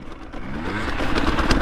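A two-stroke dirt bike lugging slowly in fourth gear while circling, its low engine note running steady and close and swelling slightly toward the end, with a faint scrape and clatter.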